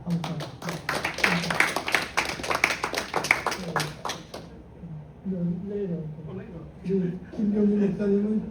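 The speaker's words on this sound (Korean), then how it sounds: "우리 박수 칩시다" A church congregation claps in Korean worship for a pastor, a brisk burst of loud applause for about four seconds that stops abruptly, followed by someone speaking.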